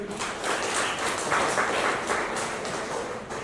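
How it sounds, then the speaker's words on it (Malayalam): A group claps for Anushka, a fourth-grade girl, in a steady, even round of applause that fills the whole moment at moderate loudness. "ഒരു ക്ലാപ്പ് കൊടുക്കാവോ അനുഷ്കക്ക്?"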